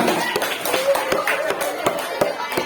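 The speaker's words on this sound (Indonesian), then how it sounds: "Tepuk tangan." A small group claps hands at a Quran school (TPA) thanksgiving gathering, uneven close-up claps in a loose rhythm with voices talking beneath.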